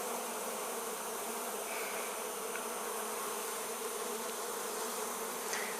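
Honey bees in a hive during a spring colony check with fresh wax comb being built produce a dense, continuous buzzing drone, steady and moderately faint, with no voices.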